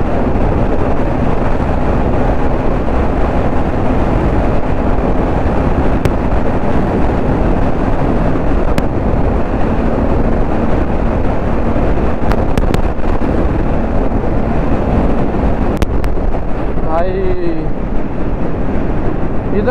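Strong wind roars steadily into the microphone during a motorcycle ride toward the Krishna river near Kolar, a loud, unbroken rush with low rumble throughout and faint passing sounds near the end.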